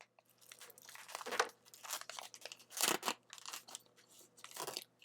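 Mailbag package being cut and torn open, crinkly plastic and paper crunching in irregular bursts, close and fairly loud with brief pauses between tears.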